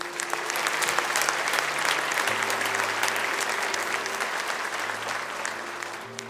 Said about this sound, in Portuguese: Se eu fosse você, eu dava um aplauso ao Senhor por isso